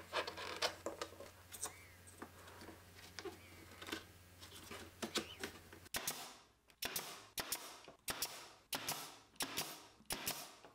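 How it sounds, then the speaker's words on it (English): Pneumatic brad nailer driving nails into glued wooden storage bench parts, a series of sharp, evenly spaced snapping shots close by, about ten in quick succession, with a few lighter clicks and handling taps before them. "I can then go back and glue and brad nail them all into place."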